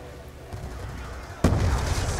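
Video game gunfire in a treasure-hunt style game: a sharp shot near the middle followed by a louder, fuller blast, each burst bright and short against a steady low game background, with no speech.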